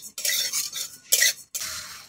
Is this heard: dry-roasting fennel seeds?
yes